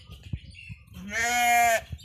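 A single sheep on a small sheep farm gives one clear, fairly close bleat lasting under a second, set against quiet outdoor background noise with faint thumps.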